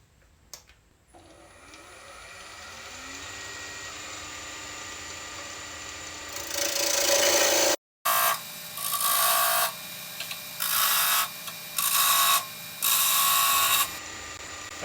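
A wood lathe spins a multi-axis wooden Christmas tree as an 1/8-inch parting tool cuts in, a rising motor whir followed by a short break and then repeated loud rasping cuts, close and without talk.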